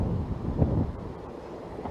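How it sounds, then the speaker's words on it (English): Steady low rumbling wind buffeting the microphone on open water while fishing, a continuous muffled roar with no voices. "as you can hear, it was pretty windy"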